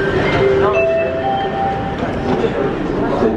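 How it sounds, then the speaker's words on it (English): A Seattle light rail train pulls away with a steady rumbling roar and a rising whine, loud and close from inside the car. "This train is departing"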